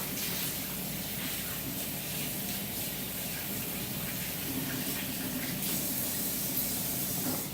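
Tap water runs steadily over pumpkin seeds being rinsed by hand, a continuous close hiss and splash at modest level.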